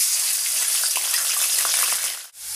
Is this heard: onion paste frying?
yes